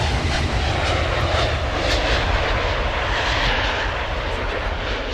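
A Typhoon jet flying in near Gatwick Airport in the Train Sim World 4 railway game, a loud steady engine roar that holds unbroken throughout.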